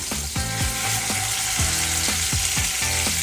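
Salmon fillet frying skin-side down in butter in a hot pan, a loud continuous close-up sizzle and crackle, with faint background music running underneath.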